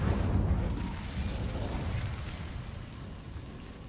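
The Incendio fire spell in Hogwarts Legacy bursts out as a heavy whooshing blast with deep rumbling weight. It starts loud and fades gradually into a roaring fiery wash.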